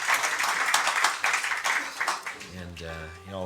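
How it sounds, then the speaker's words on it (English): At a live folk concert in the Mainstay venue, the audience claps in a short burst that fades within a couple of seconds, and then a sustained instrument note rings out. "how about a big round of applause for Mark and all the folks here at the Mains"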